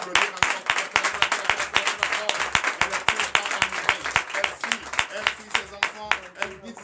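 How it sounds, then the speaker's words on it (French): A church congregation at a Sunday service in Comè, Benin claps for a prophetess in a steady, loud, rhythmic beat of sharp synchronized hand claps, with a voice and music running underneath. "Et la maman, Déborah, la prophétesse, établie de Dieu, et que je vous demande d'applaudir encore."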